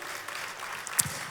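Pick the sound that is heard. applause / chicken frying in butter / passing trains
applause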